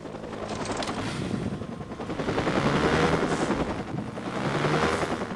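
A helicopter in the video game Watch Dogs, a steady rotor drone that rises and falls in loudness over a few seconds, layered with bursts of rapid gunfire throughout.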